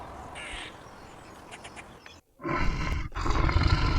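A tiger roars loudly in two heavy bursts after a quieter stretch with faint bird calls, the roars broad and rumbling with a brief gap between them.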